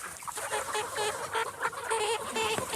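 Several chickens cluck and squawk close by on a French poultry farm raising birds for slaughter, a dense, busy chorus of overlapping calls running throughout with no talk.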